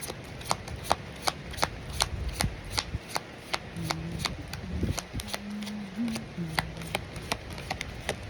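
Oracle-style synchronicity cards being shuffled, a steady run of crisp, sharp riffling snaps repeating close by, with soft background sounds in between.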